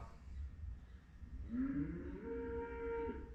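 A hungry cow lets out a single drawn-out moo starting partway in, rising then holding steady for about two seconds over low rumbling background noise, moderately close.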